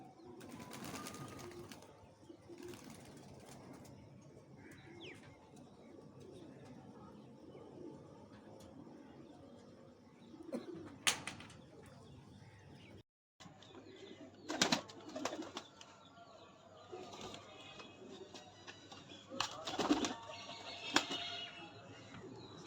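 Racing pigeons on a rooftop during a pigeon club flying tournament give soft, faint coos and sudden bursts of flapping wings, scattered unevenly across a quiet background.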